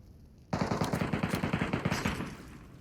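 Rapid automatic gunfire in the video game Metro Royale, a sudden close burst of about twenty quick evenly spaced shots lasting roughly two seconds, loud and alone before fading out.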